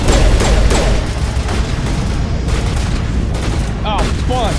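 Gunfire in the Mass Effect video game, a dense burst of rapid shots and booms at the start settling into continued crackling fire, loud and close, with brief speech and chirping effects near the end.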